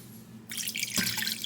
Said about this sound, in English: From here, I'm going to add 2 cups of water.